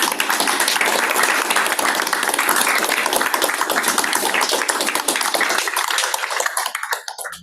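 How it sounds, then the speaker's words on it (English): An audience at a regional transportation policy board meeting stands and applauds, dense steady clapping that thins and fades out near the end, with a murmur of voices beneath. "I ask that we stand and give him a round of applause."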